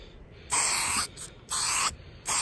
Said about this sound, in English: Bit of a test spray over here.